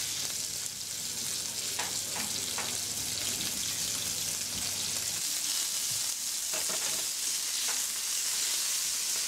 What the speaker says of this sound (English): The hare portions are then pan-fried quickly, one side at a time, to sear, to seal the juice and flavours in.